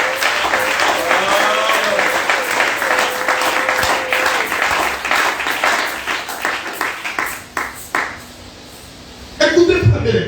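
A church congregation claps in praise for Jesus, a dense, rhythmic round of applause that thins out toward the end, with a voice speaking over it.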